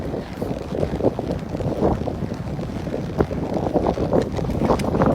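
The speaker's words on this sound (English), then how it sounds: "It's very windy." Strong wind buffets the microphone outdoors during a horse ride, a steady loud roaring rush with gusty swells and occasional thumps, no voices.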